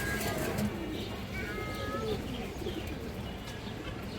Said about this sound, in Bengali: এই দেখেন দর্শক অনেক চঞ্চল কবুতর